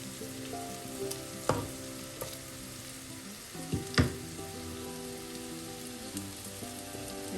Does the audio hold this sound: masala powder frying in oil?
yes